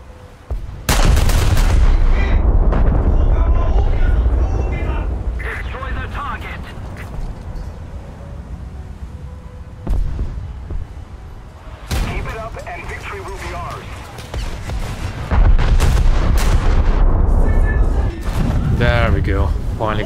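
Secondary battery guns of a battleship in World of Warships, a string of sharp booming shots at irregular intervals over a rumbling backdrop, with a player talking between volleys.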